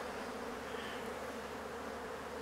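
Thick, continuous buzzing of a large swarm of honey bees robbing around hives, loud and steady for the whole stretch.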